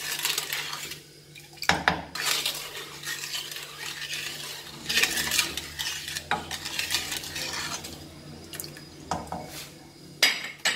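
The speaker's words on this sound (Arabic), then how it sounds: "نحركو مزيان حتى كتدخل داك السنيده مع الليمون." A spoon scrapes and knocks against a pot while jam with sugar and lemon is stirred, sharp metallic clinks and rubbing strokes coming close and irregular.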